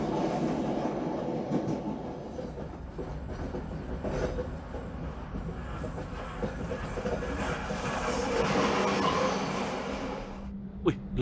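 The Pangandaran passenger train in Indonesia runs along the rails toward Banjar, heard from aboard, with a steady rolling rumble and soft rhythmic clatter, fairly quiet throughout, ending with a sharp knock.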